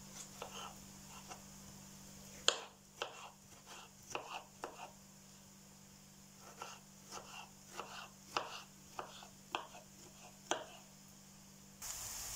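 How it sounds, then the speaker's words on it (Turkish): A knife chops peeled tomatoes into small cubes on a board, a run of sharp, irregular taps, some louder than others, over a faint steady hum, with no talk. "Soymuş olduğum domateslerimi küp küp ince ince doğruyorum."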